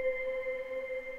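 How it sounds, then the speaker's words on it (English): A Whales pad synth holds a soft, steady ambient tone with a few sustained harmonic layers, faint and alone for a moment, from a trap-style beat. "another sound, which is this Whales pad"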